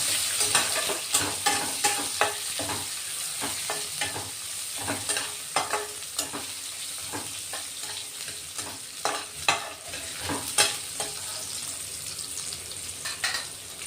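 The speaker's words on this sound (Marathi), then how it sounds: "कांदा अर्धा कांदा कट करून घेतलेला, परतून घेऊ आता" Half an onion sautéing in a pan for a masala-based village-style chicken curry, with steady sizzling and frequent scraping stir strokes close by, no talk.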